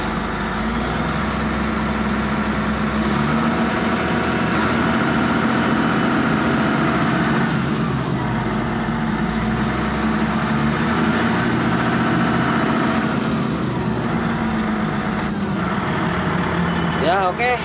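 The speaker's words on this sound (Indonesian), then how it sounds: "kita gas pelan-pelan." An engine running after a fuel filter replacement, a steady loud idle rumble with only slight gentle rises in revs, continuous and close throughout.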